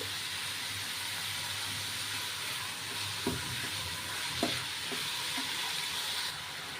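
Curry leaves crackle and sizzle as they drop into an onion, tomato and garlic masala in a pan, a steady broadband frying hiss with a few sharp pops and light scrapes near the end.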